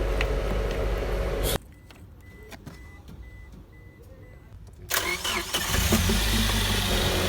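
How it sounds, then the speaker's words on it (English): Car engine cranking and catching, a loud start that cuts off abruptly into a quiet stretch, then resumes as a steady mid-pitched idle. The car has a good battery and is acting as a jump-start donor. "I'm going to start, which I have started this car that has a good battery, and I'm going to let it to idle"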